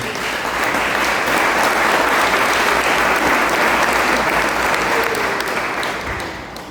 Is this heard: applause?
yes